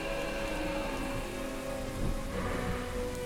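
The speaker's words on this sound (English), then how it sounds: "The rain really obscures my sight of it." Steady rain falls in a dark Gibbous game scene over piles of debris, a constant dense hiss and patter with a low rumble underneath.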